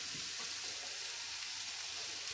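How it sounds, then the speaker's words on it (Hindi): A masala of red chili powder and coriander frying as chopped tomato is added, giving a soft, steady sizzle and crackle that runs through the moment with no voices. "ये मसाला पक गया है, अब इसके अंदर चॉप किया हुआ टोमेटो ऐड करूंगा"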